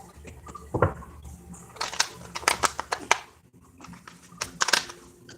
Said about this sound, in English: I'm going to give it 3 shuffles.